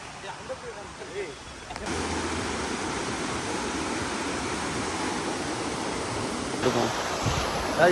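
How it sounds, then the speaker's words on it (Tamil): Steady broadband rush of water at Ayyanar Kovil waterfall near Rajapalayam, a loud continuous roar that swells after the first two seconds and holds without a break. "பார்த்தீங்கன்னா இதுதான் ஐநா கோயில் ஃபால்ஸு."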